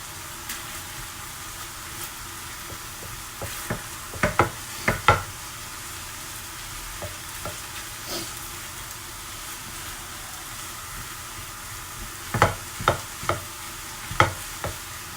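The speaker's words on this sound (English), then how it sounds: "I didn't put much oil, just a little bit to open up the spices and fry the onion" Onion and spices frying in a little oil, a low steady sizzle under occasional stirring clatters and spoon knocks against the pan, with a couple of louder scraping bursts.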